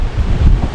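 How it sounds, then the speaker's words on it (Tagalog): Strong wind buffets the microphone beside a river, a short burst of low rumbling gusts with no other sound. "Yan mahangin."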